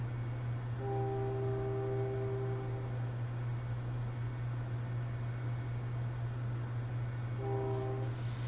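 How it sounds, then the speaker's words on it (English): A train passes in the background of a noisy city, its horn sounding in two long sustained blasts, near the start and again near the end, over a constant low hum and steady noise. "I'm not sure if you can hear the train passing in the back."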